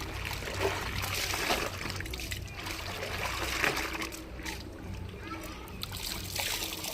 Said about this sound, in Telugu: ఈ షర్ట్లను ఇదే విధంగా జాడించాలి.